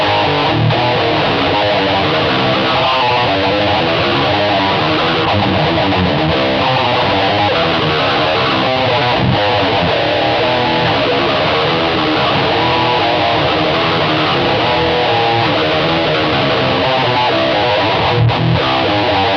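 An electric guitar plays through a Line 6 POD 2.0 amp modeler, a loud, continuous, heavily distorted tone with effects, sustained chords ringing without a break for the whole stretch.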